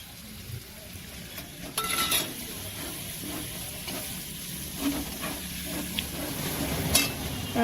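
Chopped tomatoes fry in hot spice masala in a pan, a soft continuous sizzle broken by scraping clinks of stirring.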